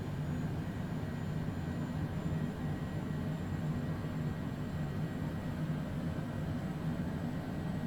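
Airliner jet engine spooling up during a cold start in a flight simulator game, a steady broad rumble with a thin high whine holding level throughout, no voices.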